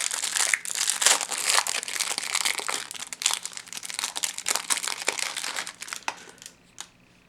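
A foil booster pack of Magic The Gathering cards from a Theros Beyond Death bundle being torn open, with loud, close crinkling and crumpling of the wrapper in irregular bursts that taper off near the end.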